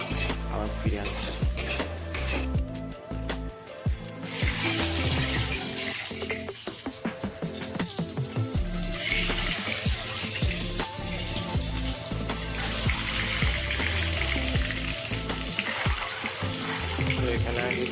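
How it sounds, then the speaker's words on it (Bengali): Eggs frying lightly in a pan for an egg curry, with a steady sizzle under clattering pans, stirring and cutlery clinks, some water sounds, and occasional background noise, busy and close throughout. "এখানে আগে ডিম ভাজা হচ্ছে হালকা করে"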